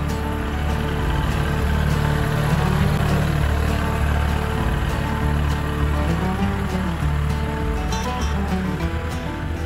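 A compact tractor's engine runs steadily at close range while working a new gravel driveway, a continuous low rumble holding level throughout with no talk.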